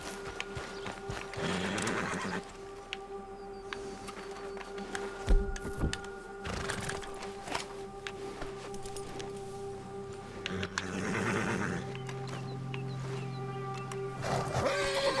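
Horses in the video game Red Dead Redemption 2 whinny a few times at moderate distance, hitched to a wagon, with occasional hoof clops and thumps between the neighs against a quiet background hum.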